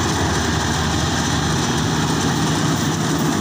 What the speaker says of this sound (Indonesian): ini mesinnya kombi ya, kombi model Indonesia